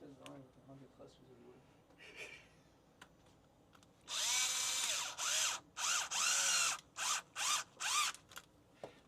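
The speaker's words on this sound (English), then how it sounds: "We leave our torque settings down if you're using a drill like this." A cordless power drill whirs in several short bursts, driving screws into a 1992–97 Ford F-Series truck instrument cluster during a rebuild, loud and close; quiet talk and small handling noises come before the drilling.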